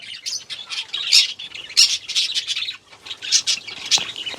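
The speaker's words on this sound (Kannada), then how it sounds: "ಇದೆಲ್ಲ ಬಡ್ಜೀಸ್ ಸರ್" Several budgerigars squawk and chirp in quick, overlapping bursts, loud and close, with short pauses between flurries.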